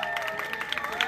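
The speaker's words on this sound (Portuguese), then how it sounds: "E pode bater palmas," Party guests clap at a birthday celebration in São Paulo's east zone, a brief burst of quick overlapping claps from a small crowd with some cheering under music.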